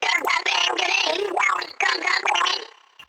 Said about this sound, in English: hence why I also added distortion.